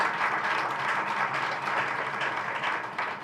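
An audience in a hall breaks into loud, sustained applause, a dense wash of clapping that carries on steadily throughout with no talking over it.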